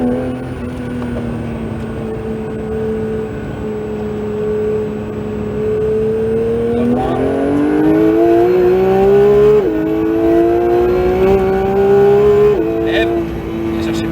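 Porsche 911 GT3 (992) accelerating on a racetrack at Castellet: a loud, steady engine drone from inside the car that climbs in pitch through the gears with short shift steps, while an instructor talks over it.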